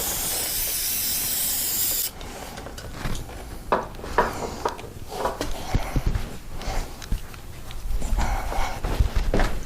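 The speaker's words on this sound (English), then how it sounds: "Spray everything with brake cleaner, clean it all up." Brake cleaner sprayed onto the rear brakes of a 2014 Kawasaki ZX10R motorcycle, a loud steady aerosol hiss for about two seconds, followed by close handling noises, scrapes and clicks.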